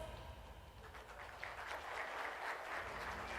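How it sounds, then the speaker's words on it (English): Audience applause at a Panasonic Eluga A3 and A3 Pro phone launch event, a faint, distant patter of clapping that swells and thickens after the first second and continues steadily. "Huge round of applause"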